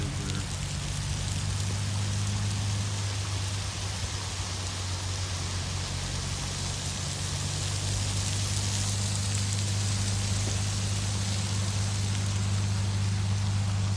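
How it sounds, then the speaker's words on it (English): Heavy rain falls beside a road in a dense, unbroken hiss of drops that holds steady throughout, with a low, constant hum beneath it. "The rain is falling heavy right here."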